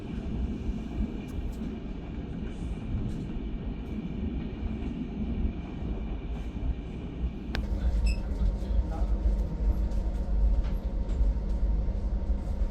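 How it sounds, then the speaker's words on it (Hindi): A Central Railway suburban local train bound for Chhatrapati Shivaji Terminus passes nearby with a steady rumbling roll, growing louder toward the end with sharp metallic squeals and clanks. "ये सेंट्रल रेलवेज की लोकल, यहाँ से छत्रपति शिवाजी टर्मिनस जाएगी मोस्ट लाइकली"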